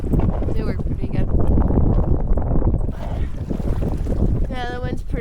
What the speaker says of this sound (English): the wind's pretty sucky